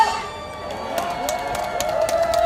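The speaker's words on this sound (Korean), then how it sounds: "여러분, 열렬한 환호의 박수를 다시 한번 보내주십시오" An election campaign rally crowd in an outdoor market in Geoje, with faint scattered cheering and applause under an amplified announcer's voice that carries through the clip.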